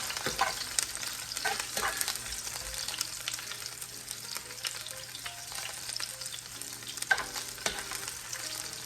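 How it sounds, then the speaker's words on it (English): Steady, continuous sizzling of onions frying in hot oil, with intermittent scraping and clinks of stirring throughout. "My oil is nice and hot now. I'll add my onions in. Give it a stir."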